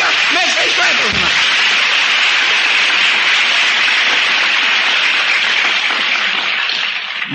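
An audience at a Greek religious sermon breaks into dense, sustained applause, a loud, even wash of clapping that fills the hall without pause and fades slightly at the end.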